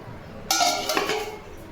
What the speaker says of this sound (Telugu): ఇప్పుడు లిడ్ పెట్టేసుకుందాం లో ఫ్లేమ్లో పెట్టుకొని